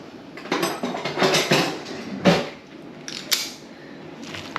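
A metal ice cream scoop is handled while portioning allergy-free meatball mixture, giving a few sharp scraping clinks and taps against a bowl, close and fairly loud.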